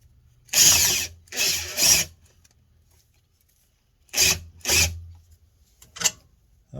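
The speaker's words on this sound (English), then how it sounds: "I've just got it going to my drill." A power drill driving a bottle jack whirs in short bursts, three spins, a pause, then two more and a brief final burst, close and fairly loud.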